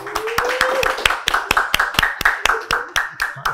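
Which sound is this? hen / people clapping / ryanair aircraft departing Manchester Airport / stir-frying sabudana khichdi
people clapping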